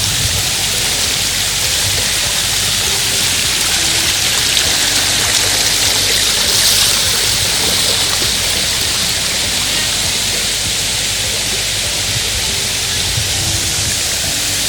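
Shallow stream water at Diana's Baths in New Hampshire's White Mountains, knee-deep and waded through, rushing in a steady, close, hissing wash that stays even throughout.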